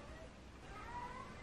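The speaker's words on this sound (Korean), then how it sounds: "저희 집 고양이가 제가 촬영해야 돼가지고 문 닫아놨더니 계속 오네요" A house cat meows repeatedly behind a closed door, its faint cries drifting in over a steady low room hum.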